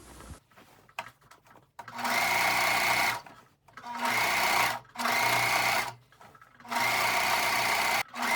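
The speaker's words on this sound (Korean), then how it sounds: "오버록으로 허리선을 스티치를 했습니다" An overlock sewing machine stitches the waistline of a denim dress in four loud, steady whirring runs of about a second each, separated by short pauses, with no talk.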